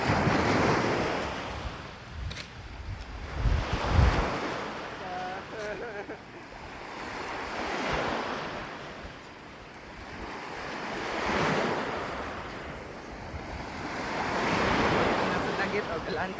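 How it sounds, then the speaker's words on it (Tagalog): Sea waves roll and wash ashore in slow, steady swells at a beach, mixed with gusting wind rumble on the microphone and a few brief voices. "Ang ganda ng dagat guys oh."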